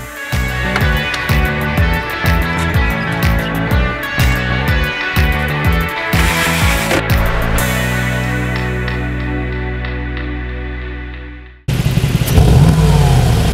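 A 2018 Mercedes-AMG G 63 engine pulling hard through rising revs with gear-shift breaks on a road leaving the city, loud and sustained, then a steady drone before a sudden cut to a new burst.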